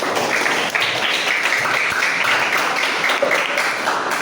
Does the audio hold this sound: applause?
yes